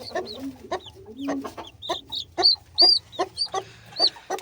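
A hen clucks close by among her four chicks, short repeated clucks mixed with high peeping calls in an irregular, busy rhythm, with no talk over them.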